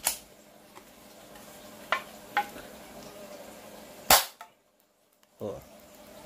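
A Kimber 1911 carry spring toy gun fires a few sharp snapping shots, close and loud, spaced out, with faint handling noise and a brief near-silent gap.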